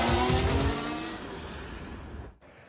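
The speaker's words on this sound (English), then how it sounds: "Shall we give the first engine a tickle?" Red Bull Racing Formula One power unit revved briefly on a test bench, a loud harmonic engine note in the opening second that fades into a falling whine and trails off near the end.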